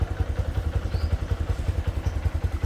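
A motorcycle engine idles with a rapid, pulsing low thrum, steady and fairly close, with faint clattering on top.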